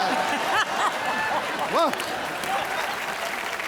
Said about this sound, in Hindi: कवालों के हिमेश रेशमिया जी के लिए जोरदार तालियां हो जाए